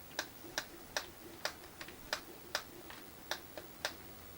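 An SVI Atari 2600 joystick's button, which has no microswitch, gives about a dozen crisp, light clicks in an uneven rhythm. The clicks are close and fairly quiet, alone against a faint hiss.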